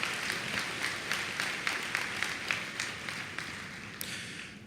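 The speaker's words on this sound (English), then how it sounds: "So let's give yourself a round of applause." A graduation audience at Cleveland State's spring ceremony claps together, a rhythmic wave of hand claps pulsing steadily at moderate distance before one final sharper clap.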